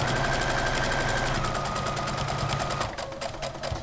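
A sewing machine stitches a seam attaching a contrasting band onto pants, a steady close mechanical whirring drone that slows and breaks off near the end, no voices.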